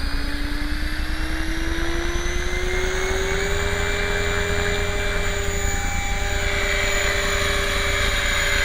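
Radio-controlled Align 500 CF helicopter flying nearby, a loud continuous rotor and motor whine that slowly rises and shifts in pitch as it moves, with no talk.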